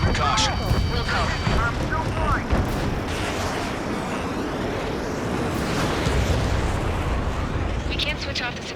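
Explosion in the combat flight game Ace Combat 7: Skies Unknown, a sustained, loud rumbling roar with crackling debris and surf-like noise throughout, with radio chatter layered over it.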